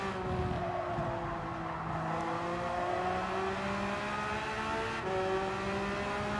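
A race car spins out in Gran Turismo 7, its engine droning and shifting pitch over continuous tire noise, steady and moderately loud with no talking.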